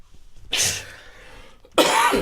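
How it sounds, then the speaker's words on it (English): Two harsh coughs, the first a strong burst with a trailing rasp, then a second sharp cough after a short pause, close by. "you're making me cough and everything"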